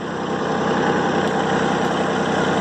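A Kubota tractor engine runs nearby with a steady, low, rumbling idle that holds constant for a few seconds, with no talking.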